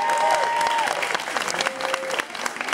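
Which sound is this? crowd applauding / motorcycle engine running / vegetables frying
crowd applauding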